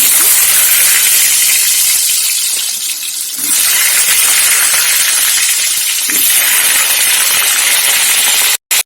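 Loud, steady sizzling hiss of potatoes frying in hot oil, continuous and close, with a brief dip midway and a sudden cut near the end.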